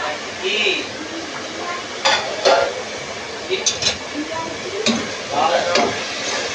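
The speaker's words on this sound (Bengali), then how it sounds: "এবার এগুলো দিয়েও ভালো করে মশলাটা কষিয়ে নেব" Ground spices for mutton kosha fry in a pan with a soft, constant sizzle, broken by scattered clinks and scrapes of a utensil against the pot.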